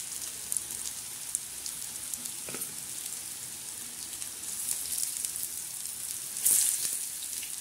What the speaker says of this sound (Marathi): आपण आता तेलामध्ये सोडणार आणि खरपूस आणि खमंग असे छान भाजून घेणार